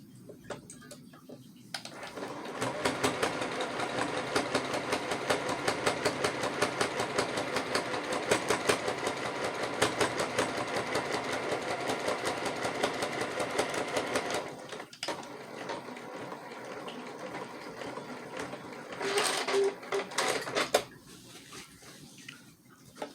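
A sewing machine running a back stitch chatters in a fast, even rhythm for about twelve seconds, stops, then runs again in a short burst before falling quiet.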